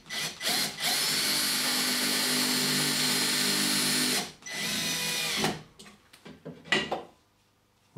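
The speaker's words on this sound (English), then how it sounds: "Just speed things up a bit by using the drill." A close power drill runs hard for several seconds while boring a fixing hole for a radiator bracket in a stud wall, stops briefly, runs again, then ends in a flurry of taps and clunks before quiet.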